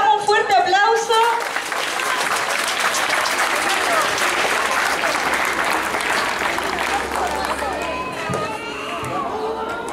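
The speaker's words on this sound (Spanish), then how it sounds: "Le damos un fuerte aplauso." Audience at a school ceremony giving a loud burst of applause for a second-grade student receiving a keepsake, dense clapping mixed with cheers and chatter that carries on steadily before tapering slightly near the end.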